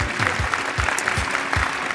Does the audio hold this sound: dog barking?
no